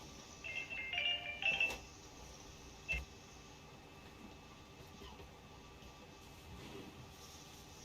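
A phone ringtone chimes quietly in short bursts near the start, then stops, leaving a faint steady hum.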